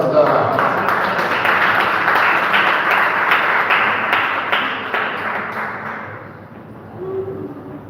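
A festival audience applauds at a poetry and storytelling event: dense, sustained clapping close and loud for about six seconds, then thinning and fading away.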